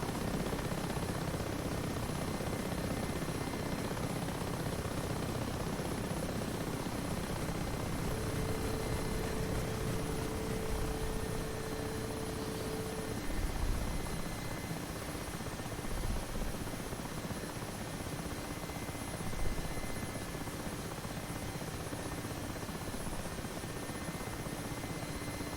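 A Mi-8 Hip helicopter setting down for a landing in the DCS World flight simulator, its rotor and turbine drone a steady, even roar throughout, with a faint tonal whine partway through and no talking.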